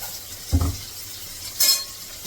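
Vegetables sautéed in groundnut oil in a home kitchen: two short scraping stirs against the pan a second apart, close and distinct, over a faint sizzle in an otherwise quiet background.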